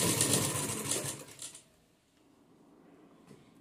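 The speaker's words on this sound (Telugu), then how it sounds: "బ్యాక్ నెక్ కూడా ఇలానే స్టిచ్ చేసేసుకుందాం" A sewing machine runs steadily for about a second and a half, stitching the back neck of a dress, close and fairly loud, then stops and leaves near silence.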